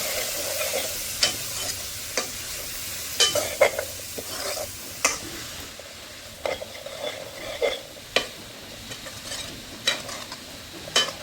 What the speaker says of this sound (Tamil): வெங்காயம், பச்சை மிளகாய் எல்லாம் நல்லா பொரிஞ்சு வந்துடுது